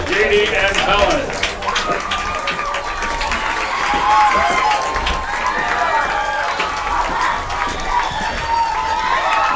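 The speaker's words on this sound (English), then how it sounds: "Applause, please." Crowd at a high school football game, with applause and cheering, children shouting and a busy, noisy stadium murmur throughout.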